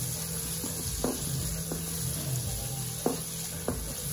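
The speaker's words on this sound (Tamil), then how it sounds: "இப்போ அடுத்ததாக நம்ம நறுக்கி இருக்கிற வெங்காயம் இருக்கு இல்லைங்களா, அதை ஆட் பண்ணிக்கலாம். அதை ஆட் பண்ணிட்டு நல்லா கிளறிக்கலாம்." Chopped onions sizzle steadily in a hot pan for a Tamil Nadu style egg roast, with a few scraping stirs of a spoon breaking through the constant frying hiss, close up and with no voices.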